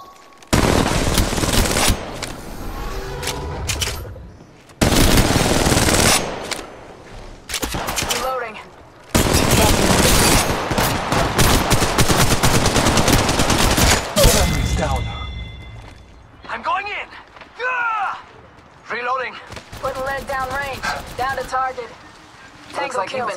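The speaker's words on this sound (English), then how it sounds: "They're shooting at me." Apex Legends Mobile gunfire crackles in loud, sustained automatic bursts with short gaps between them, then gives way to scattered lighter shots and game effects while a voice talks over the action.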